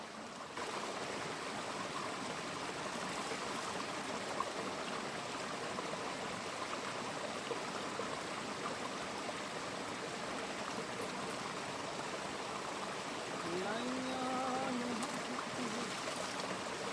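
The Narmada river flowing past a jungle bathing spot, muddy water producing a continuous rushing, trickling stream sound that stays even for the whole stretch, with faint tonal bits near the end and no clear talking.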